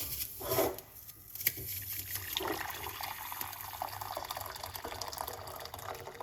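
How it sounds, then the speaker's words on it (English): Hot water is poured into a cup for bay leaf tea, a soft continuous trickle heard up close and fairly faint, with no talking. "Just 1 cup of hot water."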